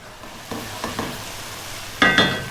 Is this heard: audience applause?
no